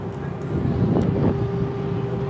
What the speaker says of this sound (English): You can see it's a little windy.